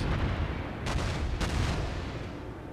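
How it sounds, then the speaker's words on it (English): Naval guns firing in the video game World of Warships: two sharp, heavy blasts about half a second apart over a constant low rumble. "Getting the hang of these guns is a little tricky."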